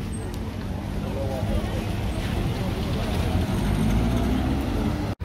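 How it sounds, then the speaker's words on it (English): Steady road traffic in Guyana during the holiday season, a dense continuous rumble of passing cars and buses with a babble of voices mixed in throughout. "the traffic is not holding up, guys"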